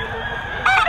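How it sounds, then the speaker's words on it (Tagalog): A rooster at a Philippine poultry market crows, the call bright and loud, rising near the end of a brief snippet over steady background hum. "simulan na natin agad dito kay Boss Joseph tong manok na to."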